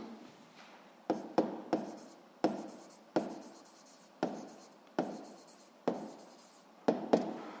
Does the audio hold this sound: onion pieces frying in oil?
no